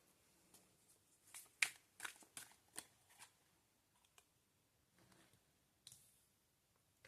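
Tarot cards being handled and drawn give soft, close papery flicks and snaps in a quick irregular cluster, then a few sparser faint clicks in a quiet room.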